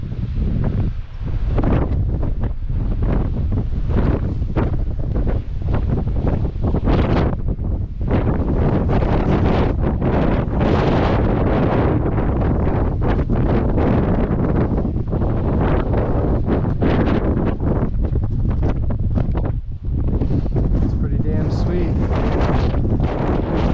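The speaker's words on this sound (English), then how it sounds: "Well, it's pretty windy up here" Strong gusty wind roars across a microphone on an exposed mountain top along the Appalachian Trail in December, loud and continuous with buffeting surges throughout.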